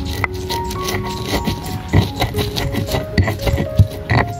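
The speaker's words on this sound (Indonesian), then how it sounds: "kita mulai ulek sambalnya dulu ya sobat" A stone mortar pounds and grinds chili sambal with bird's eye and curly chilies, giving close, irregular thuds and gritty scrapes. Rain patters in the background.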